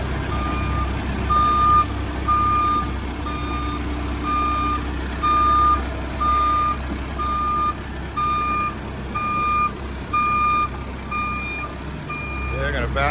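A wireless crawler backing up gives a regular series of loud, evenly spaced reversing beeps over a steady engine rumble, with someone talking at times.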